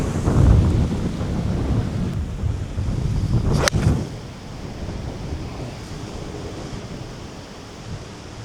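Strong wind buffets the microphone outdoors on a golf course, loud low rumbling gusts that peak early and ease after a few seconds into a steadier whooshing roar, with no talking.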